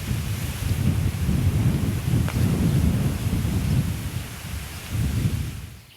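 Gusty wind roars in waves against the microphone, rising and falling steadily with a dull rumbling rush.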